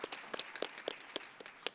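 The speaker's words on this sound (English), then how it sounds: "give yourselves a round of applause because this is amazing success" A small scattering of individual claps at a legislative conference, sparse and fairly quiet, a handful of distinct hand strikes rather than a full ovation.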